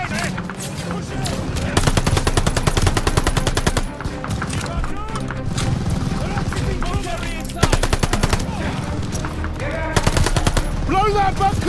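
Sustained machine gun fire and scattered gunshots ring out in a Call of Duty: Vanguard battle, loud, dense rapid bursts that pause briefly near four seconds and resume, with battlefield noise underneath.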